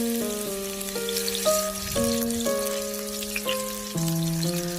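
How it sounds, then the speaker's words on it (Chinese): Scallion whites hiss and sizzle in a little hot oil in a wok, a steady, soft frying noise running beneath louder background music. "锅中留少许底油，倒入葱白爆香"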